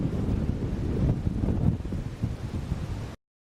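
Wind buffets the microphone in low, rumbling gusts, fairly loud and continuous, then cuts off abruptly.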